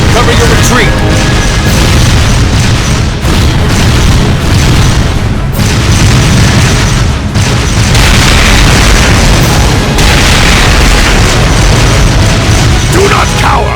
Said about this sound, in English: Fire a barrage to cover your retreat!